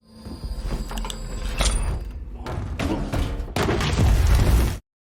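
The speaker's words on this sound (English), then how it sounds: "The explosion kills them instantly." A bomb explosion in an action film: a series of heavy thuds and crashing impacts build into a loud final blast that cuts off abruptly.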